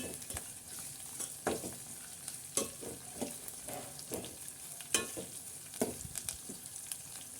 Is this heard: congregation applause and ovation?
no